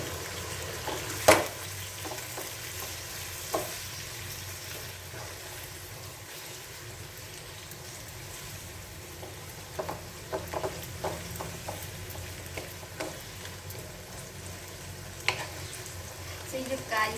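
Thai curry paste and green beans sizzle and stir-fry in a pan after a splash of water, a steady low hiss with scattered clinks and scrapes of stirring, close and moderately loud.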